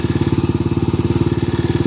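A Yamaha Mio motorcycle engine idles close by, chugging in an even, rapid pulse with a steady loud tone and no other sounds.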